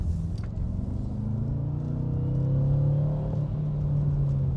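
A BMW F10 M5 Competition saloon's engine rumbles and climbs in pitch as it revs up, then eases off, a smooth steady drone recorded from inside the car with no talk.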